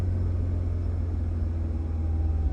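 A Mini Cooper S with an N14/N18 engine and a no-boost fault gives a deep, steady engine drone and rumble under acceleration, with no distinct rise in pitch.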